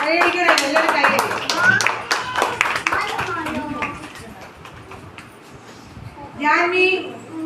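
Small audience clapping at an Anganwadi Onam celebration, bursts of close, uneven hand claps under someone speaking, fading to quieter chatter and then a short renewed round of claps near the end.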